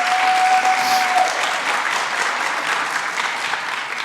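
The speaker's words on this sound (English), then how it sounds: "Round of applause." Steady, full audience applause at a college honors night for an award recipient, a dense continuous wash of clapping from a sizeable crowd, loud and close, holding evenly throughout.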